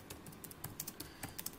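Quick, light keystrokes on a computer keyboard while an equation is typed into MS Word, a short burst of a dozen or so taps heard close with nothing else.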